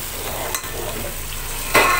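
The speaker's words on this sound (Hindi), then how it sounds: "इसको बस भूनना है बहुत अच्छी तरीके से" Masala being stir-fried in a large pot during cooking for a Rajab Niyaz feast, with a continuous sizzle broken by two sharp scraping strokes of a spoon against the pot.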